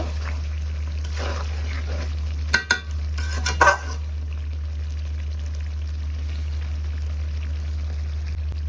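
Desi chicken meat stirs and sizzles in oil in a pan, a steady close frying hiss with a few louder scraping stirs near the middle and no talking.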